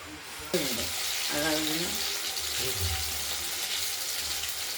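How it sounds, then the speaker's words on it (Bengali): Potatoes and eggplant frying in a pan, a soft steady sizzle beneath a faint voice that briefly rises in pitch, with light scraping near the start. "আলু আর বেগুনগুলোকে আমরা ভেজে নিচ্ছি, দেখতেই পাচ্ছেন"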